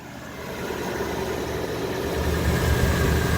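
A 1994 Dodge Dakota with its 3.9 swapped out for a 5.2 V8 idles steadily up close, a continuous low engine rumble that swells slightly toward the end, with no talking.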